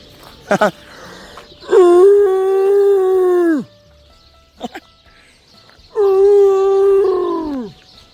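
Two long, loud, throaty cooing calls from birds nearby on a farm in Sulaibiya, Kuwait, each a sustained descending note, with brief sharp sounds in between.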